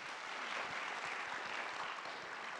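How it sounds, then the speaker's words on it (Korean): An indoor talk-show audience claps for a guest, a dense, fairly soft patter of many hands that runs steadily through the whole short stretch with no speech over it. "늘 일어섰던 태근 씨에게 박수 부탁드립니다"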